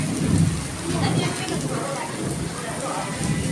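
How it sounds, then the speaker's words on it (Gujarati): Heavy summer rain pours down steadily in a thunderstorm, with a low rumble of thunder swelling near the start under the dense hiss of rainfall. "વરસાદ વધી ગયો."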